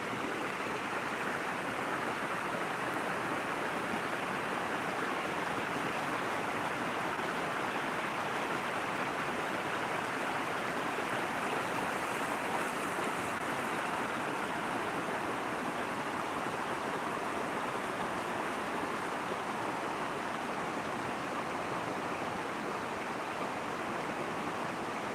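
Lake water lapping on the shore at Petoskey, Michigan, a continuous even wash of splashing and rushing noise, close and steady for the whole stretch with no voices.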